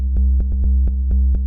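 Raw square-wave bass from Ableton Operator with no filter, a buzzy, harmonically rich low line pulsing in a steady techno rhythm with bright attacks on each note, loud and alone throughout.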